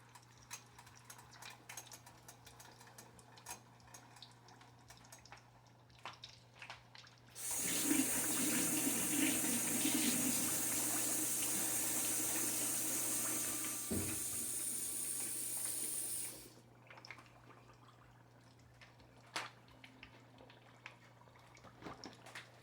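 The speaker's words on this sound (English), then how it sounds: "I'm going to go ahead and drop them in this grease" Battered whole tilapia dropped into hot peanut oil, a loud bright sizzling burst lasting several seconds before dying away, framed by quieter kitchen clatter.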